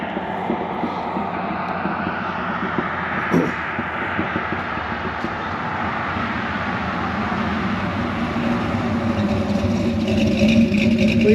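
A Square Body Chevy Blazer engine idles with a steady, deep rumble heard from close by, one brief blip near the middle, and the drone swelling slightly louder toward the end.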